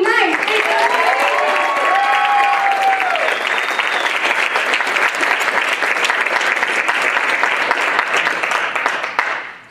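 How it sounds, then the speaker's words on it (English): An audience applauds swing dance performers at a club showcase, loud, dense clapping with cheers and whoops at the start, holding steady for nearly ten seconds before tapering off. "Let's give a round of applause to everyone who performed here tonight."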